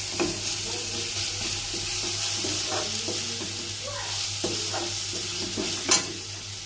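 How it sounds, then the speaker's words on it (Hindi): Tomatoes fry in a pan with salt and turmeric, a close steady sizzle broken by repeated scraping stirs and a sharp clink near the end, with no talking. "इसको अच्छे तरह से फ्राई करेंगे"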